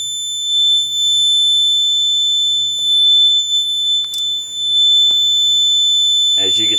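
A fire alarm panel sounds during a lamp test with a loud, steady high electronic tone that holds for several seconds, with faint clicks and a brief voice near the end.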